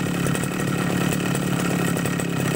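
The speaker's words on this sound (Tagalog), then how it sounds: "sumandar na yung ating grass cutter" A grass cutter engine runs loud and steady with a constant buzzing drone and no breaks. No one speaks over it.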